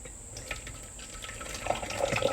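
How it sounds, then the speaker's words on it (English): Hot water being tipped out of a microwave pasta container, a steady close pouring splash that grows slightly louder toward the end, with no talking. "You get it out and you tip the water in."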